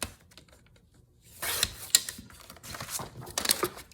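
Paper being cut for a handmade junk journal envelope, a series of quiet crisp snips and rustles in bursts, close by, with no talking.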